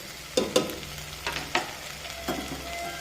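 Coriander powder, chilli powder and chicken masala stirred in hot oil for a potato curry, a sizzling hiss broken by several sharp scraping stirs of a spoon against the pan, no talking.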